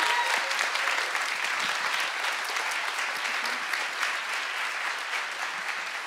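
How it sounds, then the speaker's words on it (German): Steady, fairly soft applause from a concert audience after a choir performance, a dense wash of clapping that continues evenly without speech. "Also, das ist euer Applaus."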